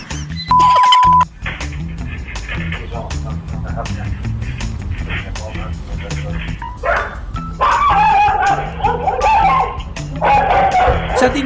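A guard dog barks and yips repeatedly at a night-time intruder trying to take a bike from inside a yard, with shouting and excited voices mixed in around the loud, rapid barks.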